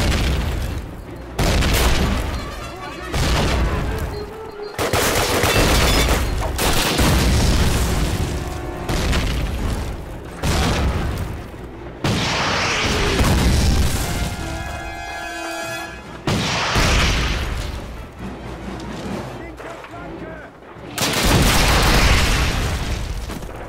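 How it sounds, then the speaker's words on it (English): Repeated heavy grenade blasts and booming explosions with scattered gunfire in the 2003 Call of Duty game, loud and close, set in a Soviet tank battle, arriving in bursts over roughly twenty seconds. "I'll throw some grenades right back at you guys."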